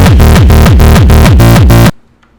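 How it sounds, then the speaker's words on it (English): Seven loud, punchy frenchcore kick drum hits made in FL Studio, each layering a sharp punch with a pitched bass tail, fired in a steady fast rhythm and then cut off abruptly into silence. "This is a kick"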